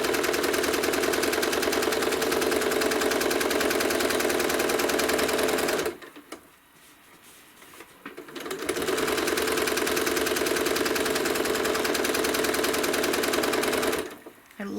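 Steady, fast mechanical whir and needle chatter from a sewing machine quilting fabric, loud and close, stopping briefly for a few seconds of quiet fabric handling before running again at the same even pace.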